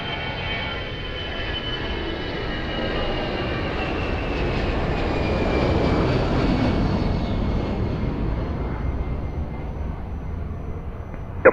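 An Air Canada heavy jet approaching runway 02 at Lisbon Airport roars in a broad, sustained engine rumble that swells toward the middle and holds loud, heard from outdoors.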